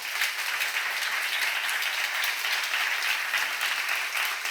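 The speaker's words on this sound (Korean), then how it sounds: "왜 박수 안 쳐?" A church congregation claps steadily in sustained, even applause that fills the room at close range, with little talk over it.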